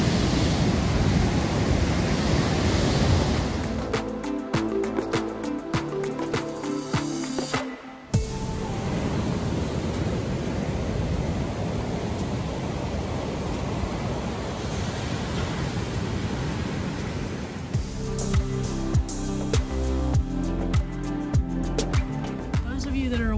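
Storm-driven Gulf waves and gusting wind from Tropical Storm Eta, with the water over its banks: a loud, continuous roar of surf with heavy wind buffeting the microphone throughout.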